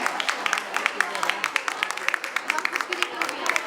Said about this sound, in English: Please give a huge round of applause for her.